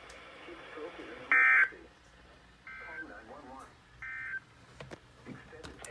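A NOAA weather radio EAS broadcast from San Diego during a required weekly test. Short bursts of loud digital data tones and buzzing header tones are heard, with spoken broadcast audio and clicks between them.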